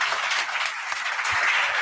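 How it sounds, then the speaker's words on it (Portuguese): Dense, steady applause fills a church congregation during a communion service, sustained, close and even for about two seconds with no talk over it. "E dá uma salva de palmas, porque Jesus é maravilhoso."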